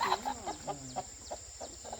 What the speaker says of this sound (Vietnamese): To nhỉ, con gà.